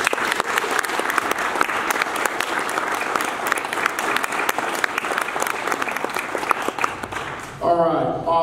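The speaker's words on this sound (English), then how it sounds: "So if you give them a round of applause" A steady round of crowd applause at a Rotary camp venture team presentation, dense clapping for about seven seconds before it stops and a voice starts talking.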